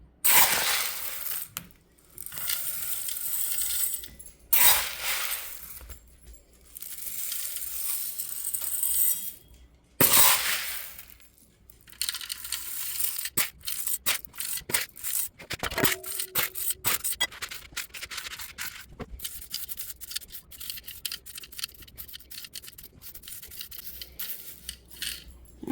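Dried popcorn kernels poured and spread across drying trays indoors, a run of dense rattling, scattering clicks and rubbing bursts with short pauses between pours, close and fairly loud.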